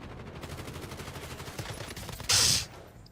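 Video game gunfire from a hard-recoiling gun: a steady low rumble of background action, then one loud, sharp blast near the end that rings briefly before cutting off.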